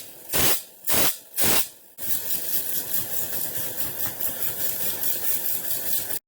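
Argon gas hisses steadily from the end of an ion drive tube powered by DC, a broad continuous rush after three short loud puffs of gas at the start, with no talk.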